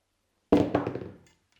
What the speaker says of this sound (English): That's why I will hammer it once.